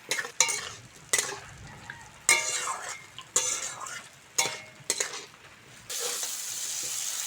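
Potatoes fry with spices in a pan for a Bengali papad curry, with a series of sharp spatula scrapes and clanks at irregular intervals over a crackling sizzle that turns into a steady loud hiss at the end.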